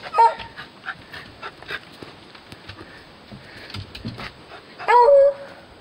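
Beagles whimper and bark at close range in a short, busy burst, with scattered yips and panting noises throughout and one louder, drawn-out whine near the end; nobody talks.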